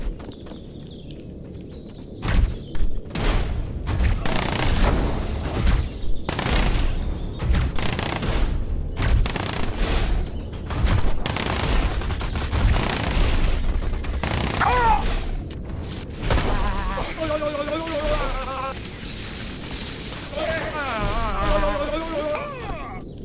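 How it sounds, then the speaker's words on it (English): A turret being destroyed during a video game boss fight, with dense rapid bursts of impacts and mechanical fire throughout, then whirring, buzzing tonal machinery sounds toward the end, loud and continuous. "I blew the turret up so fast"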